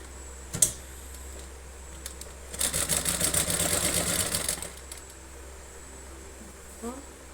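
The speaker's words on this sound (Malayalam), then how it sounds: "എന്നിട്ട് ഫസ്റ്റ് ഈ സൈഡ് തയ്ക്കുകയാണ്" A sewing machine stitches along the side seam of a pair of ladies' pants, running in a steady buzzing burst of a couple of seconds after a brief click, then falling quiet.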